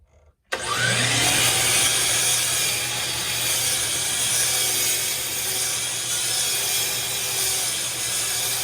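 A power saw cuts a wooden board for an end-grain cutting board. After a brief quiet start, it runs as a loud, continuous, close whining rasp for several seconds.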